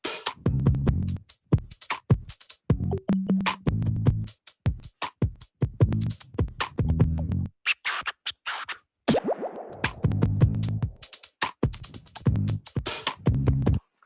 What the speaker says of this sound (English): And then I set up a third track for the drums that are reacting to my beatboxing